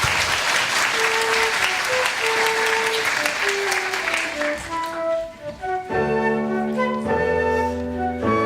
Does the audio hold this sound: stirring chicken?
no